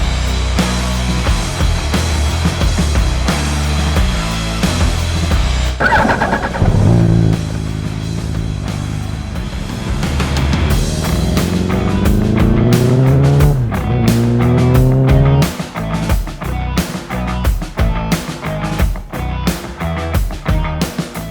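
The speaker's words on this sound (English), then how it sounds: "I'm gonna go on the road with the bike" A wrecked Yamaha R1 sport motorcycle revs loudly on the road, its engine climbing and falling through gear changes with sharp throttle blips, close and dominant throughout.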